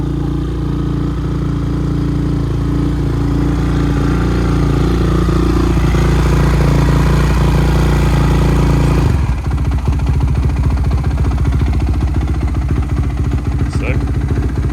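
A 2006 Honda CRF450R engine fitted in a modern three-wheeler trike runs loud and close, a deep steady thrum that changes abruptly partway into a rougher, pulsing idle, with someone talking over it.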